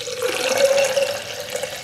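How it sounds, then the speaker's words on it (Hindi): Water is poured into a glass while a weight-loss drink is prepared in a home kitchen, giving a steady close splashing fill with a faint ringing tone that lasts throughout. "उसमें पानी डाल दें"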